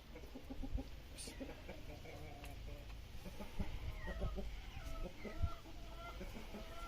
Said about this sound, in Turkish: Bir hırıltısı da var hafiften ama bu hırıltı e, boğazındaki yaradan kaynaklanıyor